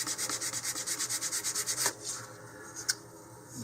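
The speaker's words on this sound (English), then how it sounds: "And what I'll do here is first sand both surfaces." Rhythmic back-and-forth sanding strokes on the surface of a balsa-style wooden fin for an Estes Curvilinear model rocket, about fifteen quick even rubs, then a pause with a couple of light handling taps.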